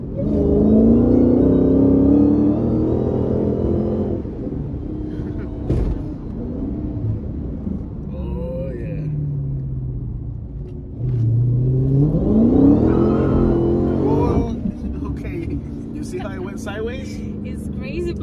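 A Dodge Hellcat accelerating hard: a loud, close engine roar that climbs in pitch through the gears, eases off, then surges again with a second rising howl, as people talk over it.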